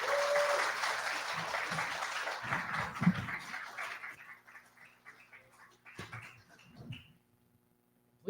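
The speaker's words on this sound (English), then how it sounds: "everybody give a round of applause and say thank you to Jeremiah for his time today" A studio audience at a live in-person podcast event applauds, a dense wash of clapping that swells at first then thins and fades out over several seconds, with a few scattered low voices beneath it.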